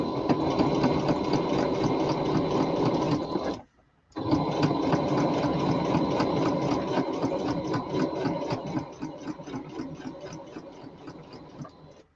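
A sewing machine runs close and steady as it joins two fabric circles, with a brief stop near the start before it whirs on again and slows toward the end.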